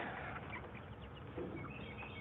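Chickens gathered around a feeder cluck softly and steadily close by, with scattered small calls over a muffled, constant background.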